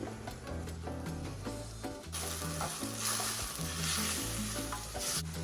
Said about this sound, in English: this is the second time I take the lid off to give this a stir